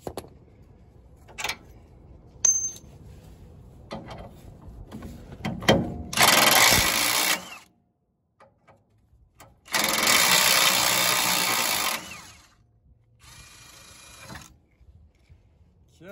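A HERCULES Ultra Torque Gen2 impact wrench works on a rusty vehicle bolt, with scattered clicks and handling noises followed by two loud hammering bursts of about one and a half and two seconds, then a fainter short burst.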